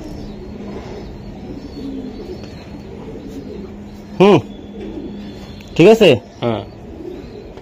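Racing pigeons coo, with a few loud, throaty coos coming in short bursts near the end over a faint steady background hum, while people talk briefly.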